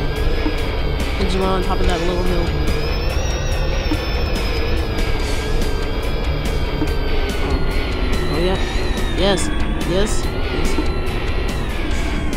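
A car in the Roblox game Car Dealership Tycoon runs with a steady, loud engine drone that stays constant throughout, under someone talking briefly.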